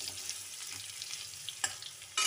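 Potatoes and pumpkin pieces frying in a pan give a steady, close crackling sizzle, broken by a few sharper pops and a brief stirring scrape near the end.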